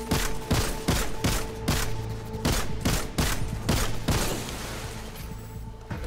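Rapid volleys of gunfire in the video game Destiny 2, loud sharp shots in repeated bursts over a steady game soundtrack drone, with no talking.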